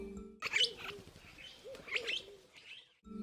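A purple glossy starling in African woodland gives two bursts of sharp chirps and whistles over soft low calls, moderately close in a quiet outdoor setting.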